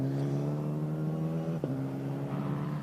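A Tatuus Abarth Formula 4 racing car engine drones with a steady high-pitched tone, briefly shifting pitch as it passes, heard from a distance at Hockenheim.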